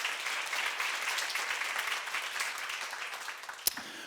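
Congregation clapping during a church seminar on 1 Corinthians, a moderate, even wash of applause with no talk, ending in one sharp louder clap.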